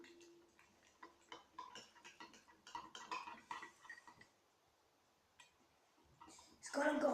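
Homemade slime with borax being stirred by hand, a series of soft clinks and scrapes of a utensil against a bowl in irregular bursts, fairly quiet, followed by a louder clatter at the end.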